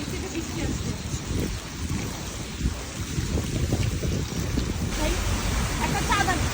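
Steady outdoor rain hisses and patters continuously across the whole stretch, mixed with gusty wind noise on the microphone and a faint low rumble beneath.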